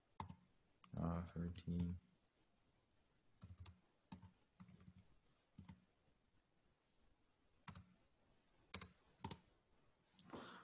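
A computer keyboard is tapped with short clustered clicks as numbers are keyed in, in brief bursts separated by pauses, while a person speaks between them.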